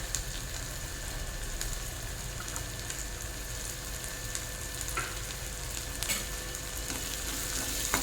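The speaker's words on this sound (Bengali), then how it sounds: "কাঁঠালের দানাগুলো পেঁয়াজের সঙ্গে একটু ভেজে নেব" Steady, soft sizzling of jackfruit seeds frying with onions in oil, with occasional scraping taps of a spoon stirring the pan.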